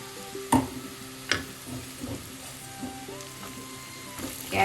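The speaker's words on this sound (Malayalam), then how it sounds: "പച്ചമണം മാറുന്നവരെ ഒന്ന് വഴറ്റാം, ലോ ഫ്ലെയിമിൽ." Sautéing in a pan over a low flame while preparing a Kerala carrot mezhukkupuratti stir-fry: a steady, soft sizzle runs throughout, broken by a few sharp clicks and scrapes of a stirring utensil against the pan, close by and with no talking.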